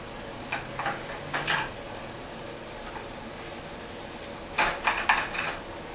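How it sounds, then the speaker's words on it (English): Potato and onion sauté with garlic in a pan, a soft continuous sizzle broken by two clusters of spatula scrapes and clatter against the pan. "that's the potato and the onion sauteed with the garlic"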